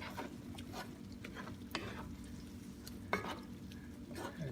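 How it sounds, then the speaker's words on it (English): Shrimp being stirred in a pan for fettuccine alfredo, faint sizzling with soft scraping and a few light clicks of the utensil against the pan, no talk. "Give it a stir."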